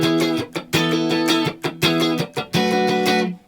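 An electric guitar plays short, choppy funk strums in a chord progression, with a sus4 chord embellishment resolving back to E. The rhythmic, clipped bursts are separated by brief muted gaps, played alone and close.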